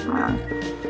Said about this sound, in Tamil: பன்றி